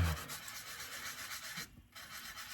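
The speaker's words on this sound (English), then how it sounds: "I'm gonna sand this a little bit" Sandpaper rubbing the painted body of a scale model car, a steady close scratchy rasp of repeated strokes with a brief pause near the end.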